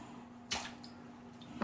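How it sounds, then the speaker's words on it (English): A cut potato half drops into a bowl of lemon water with one brief soft splash and squish, and a faint second drip trails after it in a quiet kitchen. "just put it over into a bowl of lemon water"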